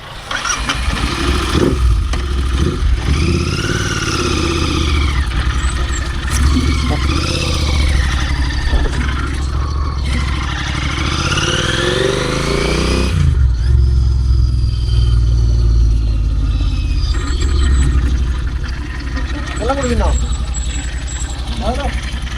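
A Royal Enfield Continental GT 650 fitted with a Red Rooster exhaust runs throughout while being ridden, its steady engine note rising and falling with throttle changes under continuous talking.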